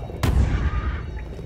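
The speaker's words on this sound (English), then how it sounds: "Yeah, these stun bombs are very useful." Stun bombs explode in the video game Creativerse as a single sharp, loud blast, followed by a low rumbling tail that slowly fades over about a second.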